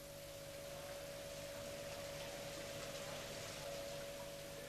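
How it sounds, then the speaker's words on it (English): Old steam engines of a 1912 dry dock pumping unit whose pumps were renewed in 1966, giving a steady, loud mechanical drone with a constant whining tone and an even churning rumble throughout, with no voices. "The steam engines of the pumping unit are still doing service"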